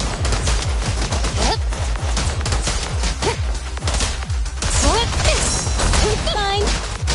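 Sustained gunfire in Zenless Zone Zero, a loud, close, relentless stream of rapid shots and impacts with whooshing effects, continuing without pause throughout.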